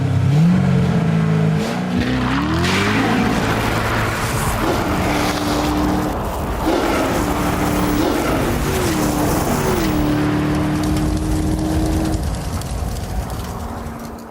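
A Corvette Z06 accelerating hard in a quarter-mile drag race, its loud engine note climbing and dropping through gear changes in repeated rising sweeps, close and dominant for the whole stretch, with no talking.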